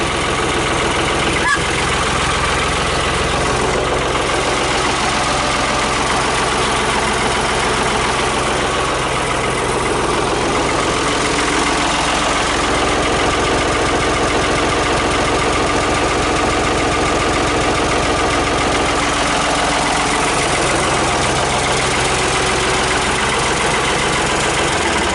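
A Ford tractor engine idles steadily with its PTO shaft spinning, a loud, continuous low rumble and mechanical drone that holds throughout, with no clear talk over it.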